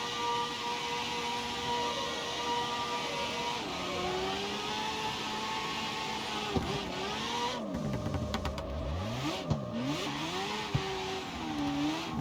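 A car engine in a racing game, revved hard with a clutch kick, pitch swooping up and down repeatedly through sharp rev bursts and shifts, a steady mid-level drone throughout.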